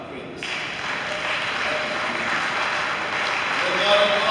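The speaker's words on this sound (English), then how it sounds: "Give the Lord a clap of praise" A church congregation at a Sunday morning service claps in praise, the applause starting abruptly and swelling into a steady wash that grows slightly louder toward the end, with some voices mixed in.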